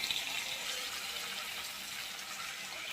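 Water pours into a cooking pan of semiya upma with tomato and fried vermicelli, a steady, fairly quiet gushing splash that continues unbroken with no talking.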